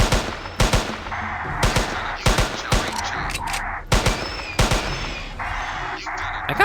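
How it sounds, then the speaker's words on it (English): SMG gunfire in the video game Jurassic Park Hunter Legends, with rapid repeated bursts of loud, close shots in an uneven rhythm over game background sound. "I seem to be more accurate with the SMG at further distances than I am up close."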